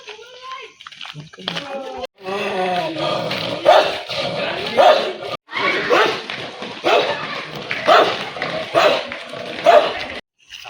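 A dog barks repeatedly in short, evenly spaced yelps, close by, while people talk over it.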